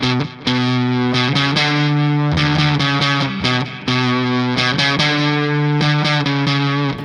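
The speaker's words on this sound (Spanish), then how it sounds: "El fuzz tiene mucha compresión y muchos armónicos." Heavily saturated guitar through a Behringer Fuzz Bender fuzz pedal, thick and compressed with dense harmonics, sustained chords broken by short gaps and restrikes, loud and close with no voices.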